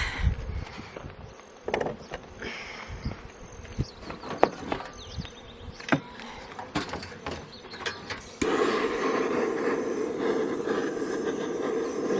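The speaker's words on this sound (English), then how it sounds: "there's a lot of bees inside of the hive" Honeybees buzz inside a newly installed hive during an inspection, a close, steady drone with scattered knocks and clicks from handling, growing louder and denser in the final seconds.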